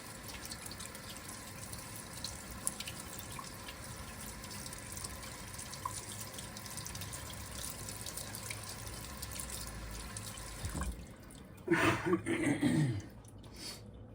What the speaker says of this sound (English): I'm going to use a little bit of soap to just wash the oil off the blade.